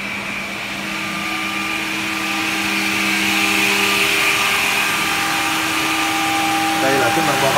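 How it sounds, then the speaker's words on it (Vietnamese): An automatic S8-S368 edge banding machine with a German-made motor runs its corner rounding function, a loud, smooth, continuous mechanical hum with a steady whine, ending with a few light clatters. "Đây là chức năng bo góc"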